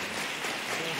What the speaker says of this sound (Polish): To są brawa